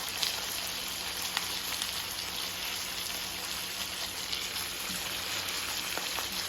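Pork shoulder steaks fry in a pan with a steady, soft, rain-like sizzle that holds evenly throughout, fairly quiet with occasional small pops and no talking.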